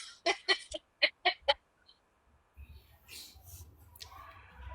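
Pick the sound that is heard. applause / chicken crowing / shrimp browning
chicken crowing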